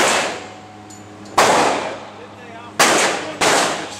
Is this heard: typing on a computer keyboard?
no